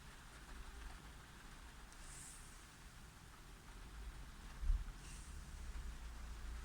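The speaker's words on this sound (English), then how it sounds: "Just listening to the rain." Rain patters softly and steadily on the roof of a parked van, a faint, even wash of drops with a low rumble underneath and one slightly louder thump near the end.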